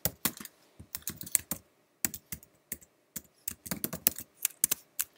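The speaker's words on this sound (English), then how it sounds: "I'm going to type in some text here" Fingers tap out text on a computer keyboard in uneven bursts of crisp, close clicks separated by short pauses.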